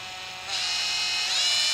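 An air impact gun on a Chevy Cobalt timing chain and oil pan job whirs at a high pitch as the trigger is feathered, the speed rising in steps while the tool spins freely without tightening anything.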